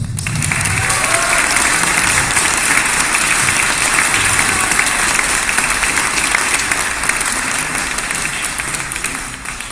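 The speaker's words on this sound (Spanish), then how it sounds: "Por favor, un aplauso para Mauricio." Sustained, dense audience applause at a book launch for the collection Café de otoño, loud and steady throughout before tapering slightly near the end.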